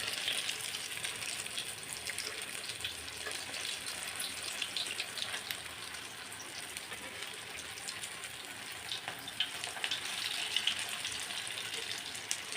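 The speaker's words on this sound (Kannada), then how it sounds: "ಮೀಡಿಯಮ್ ಫ್ಲೇಮಲ್ಲೇ ಫ್ರೈ ಮಾಡ್ಕೊತಾ ಇದ್ದೀನಿ" Chicken shami kababs fry on a medium flame, giving a quiet, continuous crackling sizzle with scattered small pops and no talking.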